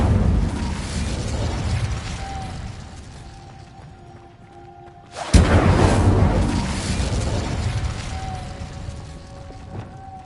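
A fiery Incendio spell blast in Hogwarts Legacy bursts out with a sudden loud whoosh midway, following a quieter rumbling stretch, then a sustained crackling roar that slowly fades.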